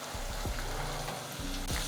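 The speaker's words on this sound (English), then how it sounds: "So while the onions are frying, you get the nice aroma of that garam masala." Onions sizzle in hot oil with garam masala, a continuous close frying crackle broken by a few soft stirring scrapes, with no talk.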